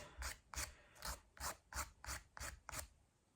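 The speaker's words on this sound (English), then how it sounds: "Then you contour the nail by filing across and up" A nail file rasps across a fingernail in eight even strokes, each a short soft scratch with brief pauses between, quiet and close with no talk.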